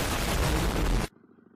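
A modified motorcycle fitted with a loaded full-system exhaust gives a loud, dense blast of roaring, crackling noise close by, cutting off abruptly to a quieter idle rumble.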